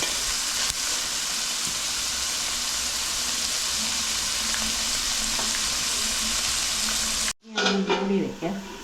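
Chicken biryani gravy cooking in a pan sizzles and fries steadily, loud and close, then cuts off abruptly near the end before a brief clatter of stirring.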